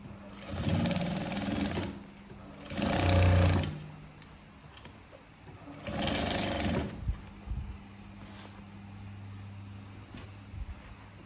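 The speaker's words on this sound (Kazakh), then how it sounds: "Барлық жағын осылай тігіп шығамыз" Sewing machine stitching a Kazakh patchwork ethnic bag, running in three close bursts of rapid whirring with quieter pauses between, no talk.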